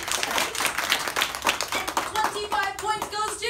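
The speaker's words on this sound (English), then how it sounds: "Give Grace a round of applause." Steady crowd clapping fills the room, dense and continuous, with a few brighter rhythmic claps standing out near the end.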